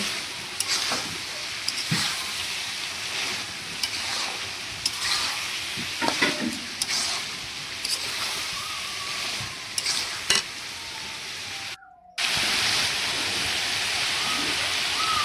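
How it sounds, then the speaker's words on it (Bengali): Meat stir-fried and braising in a pan, with a continuous loud sizzle and hiss broken by repeated scraping stirs, a brief silent cut, then the frying resumes steady and close. "গোস্তগুলো কষতে কষতে তাই সিদ্ধ হয়ে গেছে হালকা একটু পানি দিয়ে আর একটু সিদ্ধ করে নেব"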